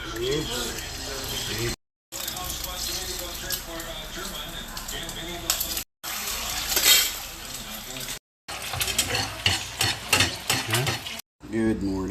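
Steady sizzling of chorizo frying in a pan, with crackles and occasional utensil clinks, broken by a few brief gaps where the sound cuts out.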